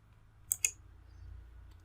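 Two quick, crisp mouse clicks sound close together on a computer in a quiet room, followed by a faint third click and a low background hum.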